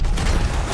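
Gunfire in the video game Red Dead Redemption 2: a loud, dense burst of shots packed together with no gaps, heard in a short stretch without speech.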